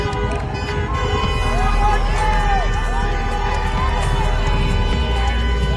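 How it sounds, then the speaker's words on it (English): Trump supporters crowd outside a Biden rally, a dense, steady roar of cheering and chanting voices with babble throughout, some shouted calls rising above and traffic noise underneath. "They're just standing there and cheering and saying Trump."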